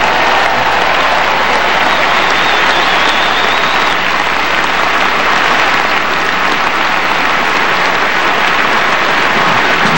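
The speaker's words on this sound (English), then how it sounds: "Merci d'applaudir Sara Errani" A large tennis crowd at the 2012 French Open applauds Sara Errani in steady, dense clapping that fills the stadium, loud and unbroken throughout.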